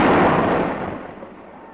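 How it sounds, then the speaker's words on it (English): A dynamite blast tears open a riverbed to lay an oil pipeline, giving a loud, broad roaring burst that rumbles and slowly fades over a couple of seconds. "So they plant tons of dynamite to blast a bed for the pipe beneath the river's bottom."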